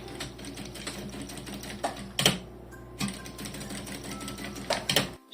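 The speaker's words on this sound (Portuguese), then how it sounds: "vou só dobrar aqui ao meio e costurar novamente a toda a volta para fazer aqui o acabamento" Sewing machine stitching folded bias binding around a mini keychain backpack, fast rhythmic mechanical chatter in runs with brief pauses and a couple of louder clunks, close and clear.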